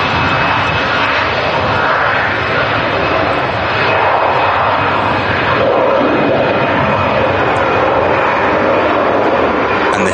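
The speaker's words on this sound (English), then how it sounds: "Turn and burn for that EasyJet, which is on its way to Charles de Gaulle" An EasyJet jet takes off from Manchester Airport bound for Charles de Gaulle, its engines a loud, steady roar that fills the whole stretch without easing.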